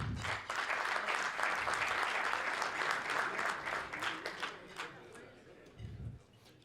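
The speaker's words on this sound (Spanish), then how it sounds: "les ruego un aplauso" An audience at a Rotary Club gathering in Buenos Aires gives a sustained round of applause in memory of the deceased, thick clapping that thins and fades toward the end with a few last claps.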